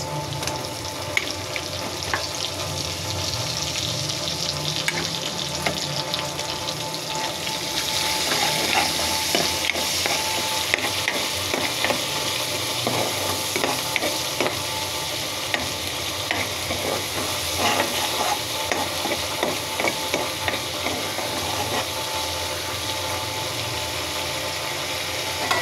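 Ground ginger, garlic and onion paste frying with shrimp for a bottle gourd curry, a loud steady sizzle with frequent scraping stirs heard up close for the whole stretch, no voices.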